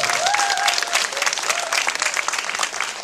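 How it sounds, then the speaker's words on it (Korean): Enthusiastic applause from an audience at a Korean film event, dense clapping throughout with a few faint cheers or whistles at the start. "뜨거운 박수를 다시 한번 보내주시고 감사합니다."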